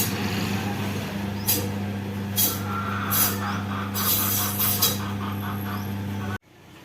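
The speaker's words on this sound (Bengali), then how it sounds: "এই দেখো বন্ধুরা, এটা কিন্তু মাংস কাটার মেশিন।" A meat cutting machine runs with a steady low mechanical hum, overlaid by several rasping, scraping bursts, before the sound cuts off abruptly near the end.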